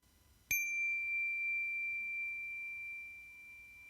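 A meditation chime is struck once and rings with a clear, pure tone that sustains and slowly fades over several seconds in a quiet room.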